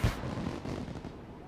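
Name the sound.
fireworks exploding in video game The Secret World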